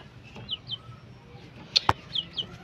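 Soft chicken clucks and short bird calls come and go over a quiet outdoor farm background, with a couple of sharp louder chirps in the middle.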